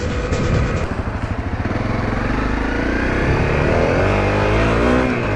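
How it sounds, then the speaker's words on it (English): A motorcycle riding through sand with its back tire slipping, the engine droning loud and steady throughout with a rising, revving pitch toward the end, heard close with no talk. "Back tire just slipped out"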